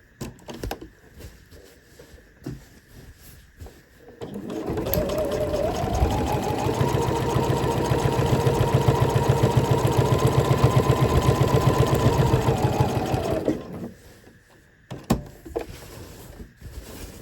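A domestic sewing machine fitted with a twin needle stitches a tote bag pocket, running in one steady, fast, even whir for about nine seconds before stopping, with quiet handling sounds before and after.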